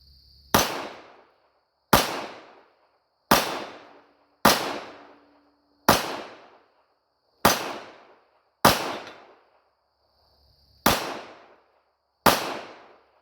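Nine sharp, loud gunshots from a Glock 28 pistol, fired one at a time at a steady pace of roughly one every one and a half seconds, each crack followed by a short decaying echo and a quiet gap.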